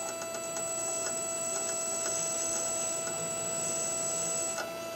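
A small brushed motor runs in reverse, driven by a brushless ESC converted for brushed use. It gives a steady, faint electric whine with a light ticking pulse, then winds down near the end.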